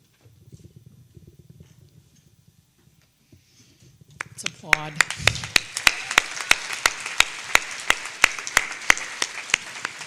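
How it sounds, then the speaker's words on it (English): Applause breaks out at a women's boxing hall of fame induction ceremony after a quiet stretch with a voice, building into steady clapping with a few loud nearby claps standing out over the crowd. "Let's applaud."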